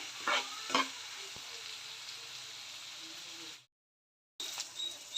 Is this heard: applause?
no